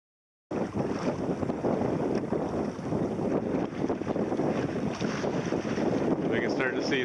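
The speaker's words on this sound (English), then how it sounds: "It's close to the wind, but we're sailing." A sailboat beats close to the wind on open water during the Everglades Challenge. Strong wind buffets the microphone continuously, with water rushing along the hull and faint creaks, loud and steady after an abrupt start.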